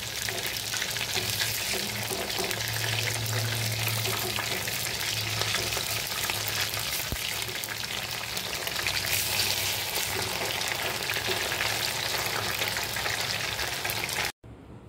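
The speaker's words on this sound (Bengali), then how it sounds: "এরপর এক পিঠ লাল লাল করে ভাজা হয়ে গেলে উল্টে দেব।" Breaded prawn fingers deep-frying in hot oil, a dense, continuous close sizzle and bubbling crackle that holds steady throughout, cutting off abruptly at the end.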